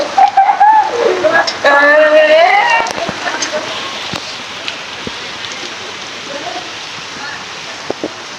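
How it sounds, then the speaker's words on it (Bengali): People talk over a wash of outdoor rain at first, then the steady patter of cold rain on surfaces continues more quietly on its own, with scattered sharper drop splashes. "এখন বৃষ্টি পড়তেছে"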